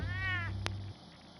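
A cat gives a short, close meow with a rising-then-falling harmonic tone, set against a low steady hum and a brief sharp click shortly after.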